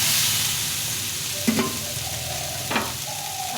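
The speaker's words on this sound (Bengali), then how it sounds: "ভালো করে ভেজে নিয়েছি।" Flat beans, eggplant and radish fry with salt and turmeric in a pan, a continuous close sizzle broken by a couple of spatula scrapes and stirs, no speech.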